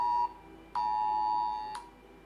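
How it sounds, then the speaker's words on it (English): Emergency alert test alarm sounding as a steady electronic tone in three bursts with short gaps between, clear and fairly loud with no talk over it. "I open up WoW and the alarms go off."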